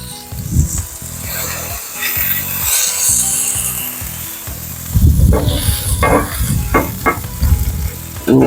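Smash burger patty pressed flat on a griddle over a Weber kettle grill with onions, sizzling and scraping with a spatula, a steady close fry hiss under repeated scraping and pressing strokes.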